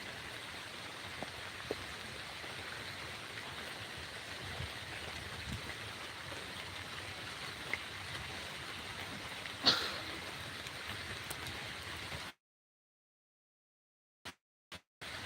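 Steady rain falls outside with a constant hiss, then cuts to near silence with a few brief clicks at the end.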